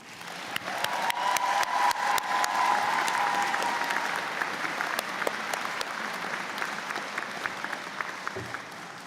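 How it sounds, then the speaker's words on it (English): An indoor graduation convocation audience gives a sustained round of applause, with dense even clapping and a few louder individual claps standing out throughout. "Graduates, may I ask you to please join me in a round of applause for the MRU employees"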